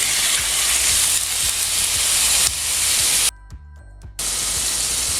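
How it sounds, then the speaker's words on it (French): Veal strips sizzle steadily in hot browned butter in a pan, a loud, continuous frying hiss with a brief drop in the middle before the sizzle resumes. "Quand vous voyez le beurre devenir noisette, vous y mettez votre viande."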